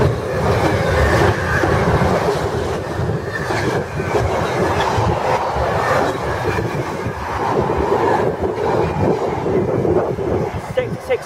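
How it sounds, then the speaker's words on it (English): A Freightliner freight train, locomotive 66501, rushes through a station platform at speed, a loud continuous rumble with rattling wagons and clickety-clack from the wheels, steady for the whole stretch. "Next train to go through platform 3 is a Freightliner service,"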